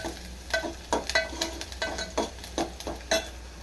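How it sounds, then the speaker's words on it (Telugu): Onions fry in a pan until browned, with a low sizzle under a rhythmic series of spatula scrapes and light metallic taps, roughly one stroke every half second. "ఉల్లిగడ్డ ఎర్రగెత్తండి"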